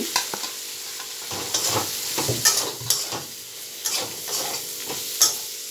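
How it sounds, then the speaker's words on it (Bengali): Fried potatoes are stirred into sizzling spice masala in a pan, a close steady frying hiss broken by rhythmic scrapes and knocks of a spoon against the pan. "এবারে ভেজে রাখা আলু দিয়ে দিচ্ছি"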